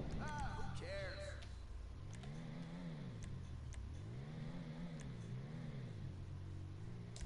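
Car exhaust in GTA 5 Online revving up and down in repeated rising and falling sweeps, a loud mid-low engine drone swelling three or four times, with brief voice sounds at the start.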